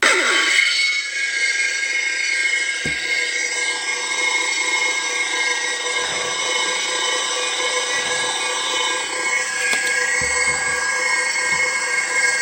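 Tron Legacy lightsaber sound font on an MHS-based baton with the blade installed: a continuous bright electronic hum with high whining tones, steady and close, with a few faint clicks and swells, no talking.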